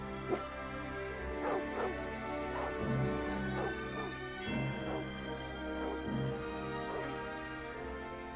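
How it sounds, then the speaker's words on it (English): Dog from the Fullmetal Alchemist anime barking in a series of short, yippy barks over a steady music bed, moderately loud, with a soft whine mixed in. "What's he barking at now?"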